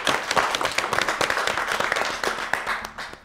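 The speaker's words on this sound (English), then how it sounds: "Let's give him a round of applause." A round of applause from a studio audience on a children's spelling quiz show, brisk overlapping claps that stay strong and fade slightly toward the end.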